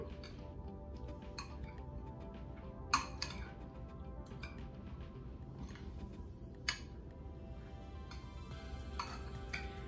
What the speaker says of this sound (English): I'm going to stir my salsa together, or my pico de gallo.